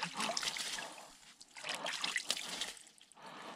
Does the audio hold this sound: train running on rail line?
no